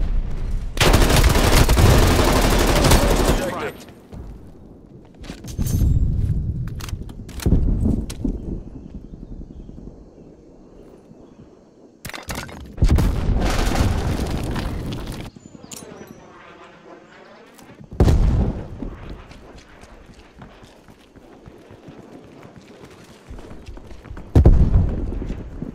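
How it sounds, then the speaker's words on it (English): Heavy artillery strike explosions in the Call of Duty Black Ops Cold War multiplayer video game, several loud booming blasts spaced apart with rumbling tails and quieter combat noise between them. "Hostile artillery targeting active."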